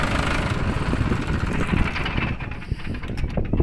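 A Mahindra 585 DI 50 HP tractor fitted with an 11-tine cultivator idles with a steady, low diesel rumble, close and continuous, with no speech over it.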